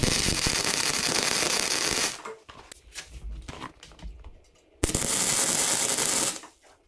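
Flux core wire welding on a steel key storage piece with 1/4 bolts set in the holes, giving two loud, steady crackling bursts of about two seconds each with a quieter gap of clanks and handling between them.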